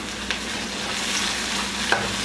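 Ginger garlic paste is stirred into hot oil in a pan while cooking eggplant bharta, with a steady close sizzle and a couple of soft scrapes from the spoon.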